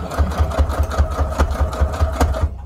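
A sewing machine stitches a junk journal tag, backstitching briefly and then running forward, in a close, loud series of rapid rhythmic thumps.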